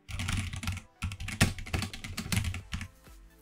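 Typing on a loud mechanical keyboard, a rapid irregular patter of crisp key clacks in quick bursts with short pauses, close and clear with no voices.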